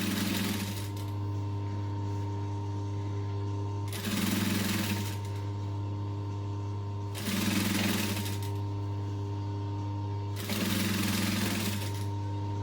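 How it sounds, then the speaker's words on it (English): A sewing machine stitches fabric and vinyl for a backpack in four short bursts of rapid, rattling needle action, separated by pauses where a steady motor hum continues. "stitch about 1/8 of an inch from the side of the fabric"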